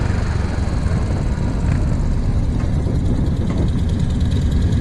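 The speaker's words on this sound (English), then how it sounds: "I test ride the Royal Enfield Bullet Classic 500" Steady engine drone and wind rush from a Royal Enfield Bullet Classic 500 motorcycle being ridden, a constant, loud, close rumble with no breaks.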